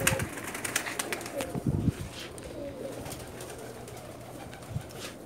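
Pigeons kept as racing and flying birds coo nearby, with a few low, throaty calls early on and one brief coo near the end, all over soft outdoor background noise.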